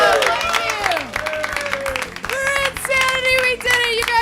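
Audience applause and cheering for comedian Shay Bell at the close of a live comedy show, a dense crowd clapping under a loud voice shouting over it, with ringing tones running throughout.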